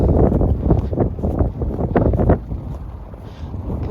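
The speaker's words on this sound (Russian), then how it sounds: "и метель просто. Вот она как вчера вечером началась, и ветер сильный-сильный" Strong gusting wind during a January snowstorm in Ukhta, Komi Republic, roaring steadily and buffeting close against the microphone, then easing slightly partway through.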